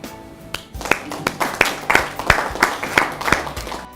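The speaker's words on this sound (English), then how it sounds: "I'm going to clap one more time for all of you." A few people on a hymn magazine show clap in a slow, regular beat, about ten distinct claps spaced evenly and close by, with faint crowd clapping behind.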